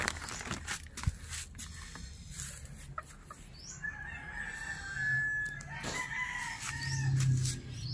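Japanese bantam chickens clucking and a rooster crowing nearby, with scattered rustling and clatter in the background.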